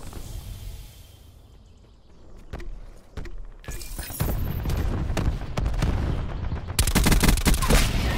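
Gunfire in Call of Duty: Black Ops 4 starts as scattered sharp shots over a quieter stretch, then builds into loud, dense rapid bursts of automatic fire that keep going to the end.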